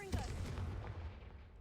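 A fire spell blast cast in a video game: one deep booming burst that rolls into a low rumbling decay, fairly faint and short.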